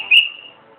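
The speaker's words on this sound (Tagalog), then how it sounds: "Pumito siya." One short, sharp whistle from a person, heard once and fading quickly against a quiet background.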